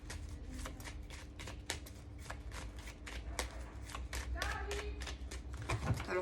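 Oracle cards being shuffled by hand, a run of quick riffling and flicking snaps over a steady low background hum, close and fairly loud, with a few sharper taps near the end.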